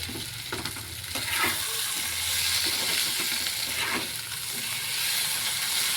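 Ingredients for kochu fish curry fry in hot oil with a steady, dense sizzle and hiss, joined by occasional stirring scrapes, close up and continuous with no talking.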